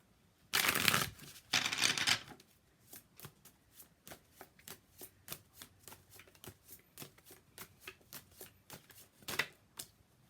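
Two bursts of card riffling, then a long run of sharp, evenly spaced snaps as cards are bridged and tapped, ending with one more quick riffle.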